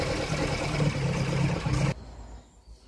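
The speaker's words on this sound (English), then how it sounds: "it seems to be running very steadily now" A Ford Pinto SOHC engine in a Capri idles steadily up close, a continuous even rumble for about two seconds before cutting off abruptly, leaving faint background hiss.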